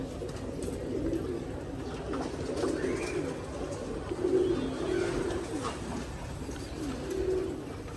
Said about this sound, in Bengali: কিন্তু কবুতরগুলো আসলে চোখে লাগার মতো।